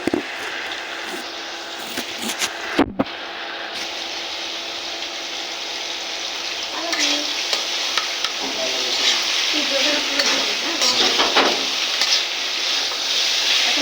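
A vegetable curry frying in a little oil, stirred steadily, giving a continuous close sizzle with scraping and clinking spoon strokes throughout, one sharp knock early on and a busier stretch of stirring near the end.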